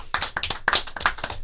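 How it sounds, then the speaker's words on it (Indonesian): A small group claps in tribute to the Persib Bandung football team, a short burst of close, distinct hand claps in a quick uneven rhythm. "Boleh kasih tepuk tangan dulu."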